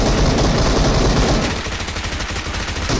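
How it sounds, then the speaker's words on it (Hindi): Rapid automatic fire from a PP-Bizon submachine gun mixed with pistol shots in a shooting video game, loud and dense bursts throughout, thinning into sharper separate cracks toward the end. "मैं और वो इस बंदे को तो पूरा गोलियों से भून देते हैं, लेकिन किल उसे मिलती है।"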